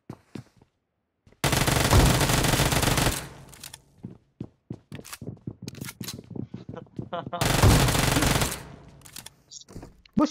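Automatic Uzi fire in PUBG Mobile, two long continuous loud bursts separated by a stretch of scattered single shots and clicks, all close and sharp, with game sounds in between.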